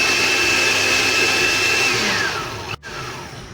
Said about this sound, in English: So really when we put it in the blender